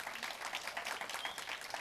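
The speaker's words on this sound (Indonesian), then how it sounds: "Kita beri tepuk tangan dulu dong" A congregation at a church service claps for the helpers of its early childhood education program, a soft, even patter of many hands that runs throughout.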